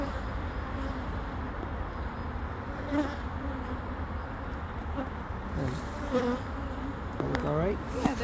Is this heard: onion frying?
no